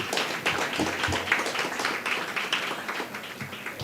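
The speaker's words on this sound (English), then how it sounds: "Please give the minister another round of applause." At a university policy launch, an audience claps for a minister in a moderate, even stretch of applause that holds for a few seconds without fading.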